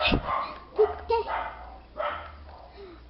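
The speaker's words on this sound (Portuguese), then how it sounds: "Ai, os cachorros da vizinha." A neighbour's dogs bark in a few short, sharp bursts at a moderate distance, mixed in with people talking nearby.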